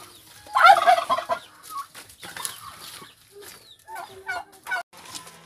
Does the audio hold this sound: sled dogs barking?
no